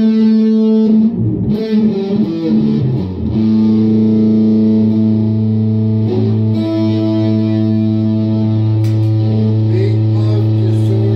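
An electric guitar through a Big Muff fuzz pedal sustains thick, heavily fuzzed, saturated chords and notes, loud and up close with a buzzy, woolly tone.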